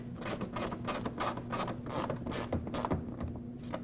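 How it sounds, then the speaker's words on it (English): Small fragile screws driven into the fender liner of a 2009-2010 Dodge Ram 1500, giving rapid, close mechanical ratchet clicking that runs continuously and evenly throughout. "And we'll install the screws that hold it on."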